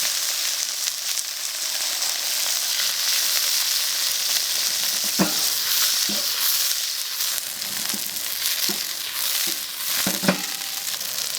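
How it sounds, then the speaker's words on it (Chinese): Eggplant, first soaked in salt water and squeezed, stir-fries in a hot oiled wok with a steady broadband sizzle, broken by a few sharp spatula scrapes and clacks against the pan. "茄子下锅"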